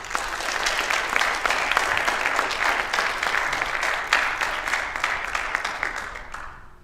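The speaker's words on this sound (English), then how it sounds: "so give yourself a round of applause." Sustained round of applause from the audience at a high school cross country awards event, steady dense clapping throughout before tapering off at the end.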